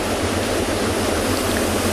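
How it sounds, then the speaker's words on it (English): Waterfalls on a river flowing between a Tanzanian game reserve and Serengeti National Park pour down over rocks, a loud, continuous broadband rush of falling water with no pauses and no voices. "in the background, you can hear the waterfalls of this river rolling down from the rocks"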